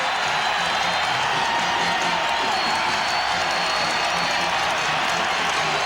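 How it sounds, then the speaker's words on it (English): A packed basketball arena crowd roars and cheers during a 1996 Kansas vs. Iowa State game, a dense, loud and unbroken wall of noise with whoops and clapping mixed in throughout. "And listen to this crowd."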